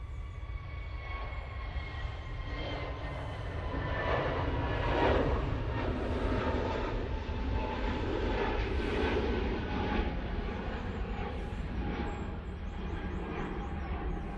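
An easyJet airliner departing Manchester Airport, a broad distant engine roar that swells and holds steady, with a whining tonal layer, heard from a spotting position without talk.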